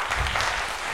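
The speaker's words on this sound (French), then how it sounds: "On applaudit." A brief burst of dense audience applause at a youth debate competition quarterfinal in Guinea, a continuous wash of many hands filling the room.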